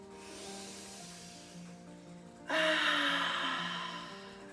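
A single open-mouthed exhale during yoga breathing, a soft breathy rush that swells suddenly and then slowly fades, close by over quiet, sustained background music.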